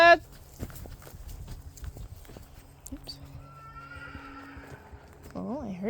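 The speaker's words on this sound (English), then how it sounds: "Was it the neighbor horse or was it Jitterbug" Horses on a farm in autumn: a short whinny near the start and a longer, wavering neigh at the end, with scattered hoof clops and a person talking between them.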